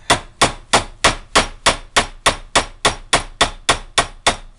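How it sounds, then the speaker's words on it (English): A steady run of sharp metallic taps from a small hammer on a Jeep axle U-joint, about three per second, each ringing briefly before the next strike, close and fairly loud. "I'm just taking a smaller hammer"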